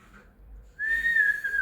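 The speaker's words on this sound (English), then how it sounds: "Let me try whistling." A single sustained whistled note starts partway in, clear and close, wavering slightly in pitch over a faint background.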